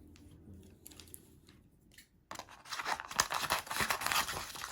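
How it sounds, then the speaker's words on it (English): Scissors cutting away a piece of paper while making a silhouette in a notebook: a quiet opening, then a louder stretch of rustling, crinkling snips and tearing sounds up close. "I'll cut some of this off so it won't be in my way."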